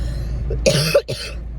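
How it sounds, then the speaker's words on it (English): Two quick, close harsh coughs in succession, loud and sharp against a quiet background. "I really do apologize about the coughing"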